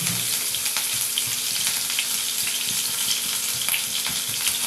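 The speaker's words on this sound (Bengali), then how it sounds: "এবার আমি সবজিগুলোকে ভেজে নেব।" Vegetables frying in oil with bay leaves and ginger paste for Bengali khichdi, a steady, close, dense sizzle with faint stirring clicks throughout, no voices.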